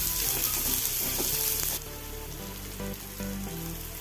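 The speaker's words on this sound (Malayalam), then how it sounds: "ചീഞ്ചട്ടിയിൽ രണ്ട് ടേബിൾ സ്പൂൺ ഓയിൽ ഒഴിച്ചിട്ടുണ്ട് ഇനി ഉള്ളി ഇട്ട് കൊടുക്കാം ഉള്ളി ഒന്ന് വാട്ടിയെടുക്കണം" Onions sizzle as they sauté in two tablespoons of oil in a pan, a steady close frying hiss that drops a little partway through and then continues without speech.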